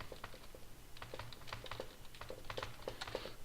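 Steady typing on a computer keyboard into an MS Word text box, a close run of light, uneven clicks with no talking.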